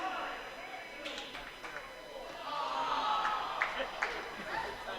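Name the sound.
wrestling crowd reacting with an awe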